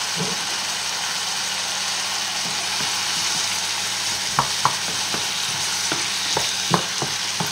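Sausages and lentils simmering and sizzling in a pan, a continuous bubbling fry close by, with a handful of sharp spoon taps and scrapes from stirring in the later seconds.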